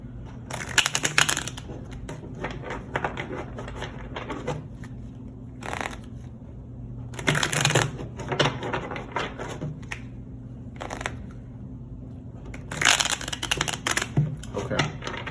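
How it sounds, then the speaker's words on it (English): Stiff tarot cards are shuffled in three separate bursts of crisp riffling and flapping, close and moderately loud, with quieter handling between them. "let's just go ahead and pull them because they don't really want to shuffle."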